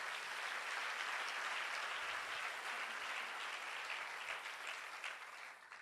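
A church congregation applauding and cheering together, a dense, sustained wash of clapping that carries on steadily before easing off slightly toward the end.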